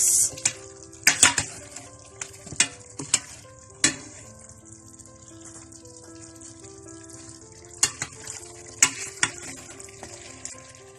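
Food stirred in a pan for Filipino chicken menudo, with sharp utensil scrapes and clacks at irregular intervals over a steady low sizzle, busiest early and again near the end.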